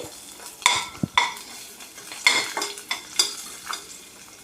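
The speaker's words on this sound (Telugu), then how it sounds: "తెల్లుల్లి చిన్న అల్లం ముక్క ఇవి కొంచెం వేగాలి" Garlic and a small piece of ginger fry in a pan with a light sizzle, punctuated by several sharp clinks and scrapes of a spoon stirring against the metal at an irregular pace.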